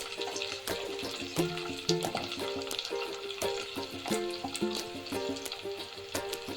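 Curry leaves and turmeric, with coriander and mint, frying quietly in a pan for chicken curry, a soft crackling sizzle accompanied by light clinks and scraping of a utensil.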